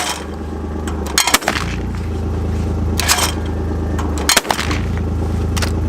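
Stoeger Condor over-under 12 gauge shotgun fired at clay targets outdoors, with three loud, sharp reports spaced a couple of seconds apart over a steady low engine-like hum.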